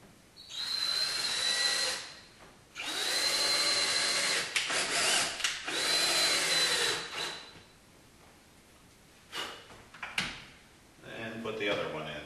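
A power drill drives screws into a plantation shutter frame during installation, with three close whirring bursts of a few seconds each, then lighter handling knocks, under occasional talk.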